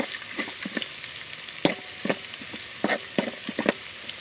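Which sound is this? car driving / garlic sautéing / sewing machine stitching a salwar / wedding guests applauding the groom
garlic sautéing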